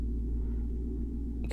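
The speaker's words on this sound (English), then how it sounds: "My neighbor has the loudest car on earth." A neighbor's loud car rumbles steadily nearby, a deep continuous low drone filling the background with no talking.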